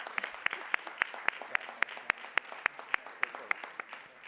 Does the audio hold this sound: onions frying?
no